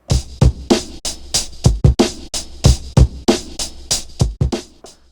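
A sampled hip hop drum kit, bit-crushed and EQ'd with boosted treble, played by hand in a loose groove of punchy kicks and crisp snares, each hit clear and close with nothing else heard.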